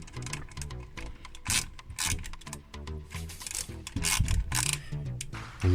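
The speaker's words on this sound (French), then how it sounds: "C'est vrai que le cliquet, c'est pratique." A hand ratchet tightens the last metal screw on a large-scale KITT (K2000) model car exhaust assembly, giving fast, close, repeated clicking bursts of the pawl with brief pauses between strokes.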